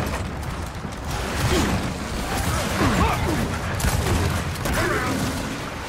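Gunfire in Gears of War 4 amid a busy battle, dense bursts of shots mixed with crashes, whooshes and mechanical clatter over a continuous rumbling din, with faint voices underneath.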